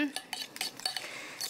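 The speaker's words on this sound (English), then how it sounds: "I'm now going to whisk this up" Coleslaw dressing whisked in a bowl, with a run of light metallic clinks and taps of the utensil against the dish, fairly close and irregular over a quiet background.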